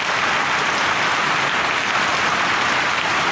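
Steady rain falls in a dense, unbroken hiss, loud and even with no pauses, and no voices over it.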